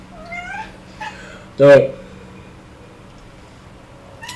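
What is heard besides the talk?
cat meowing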